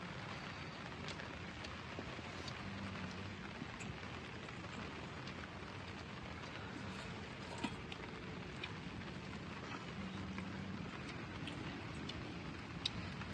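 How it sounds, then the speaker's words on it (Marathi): Light drizzle falls outdoors at a rural encampment: a faint, steady soft hiss with scattered tiny ticks of drops, continuous and even throughout, with no voices. "रेमझिम पाऊस पण येतोय आता"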